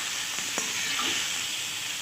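Meat frying in oil for Peshawari charsi karahi, a steady close hiss and sizzle with a faint stir or scrape partway through.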